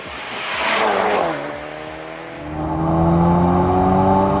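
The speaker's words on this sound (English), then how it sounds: "the AMG gets a 2-litre turbocharged 4-cylinder unit with 143 horsepower more" Mercedes-AMG A35 sedan from 2021, 2-litre turbocharged four-cylinder, revs up loudly, drops off, then climbs again into a sustained rising engine note, close and alone.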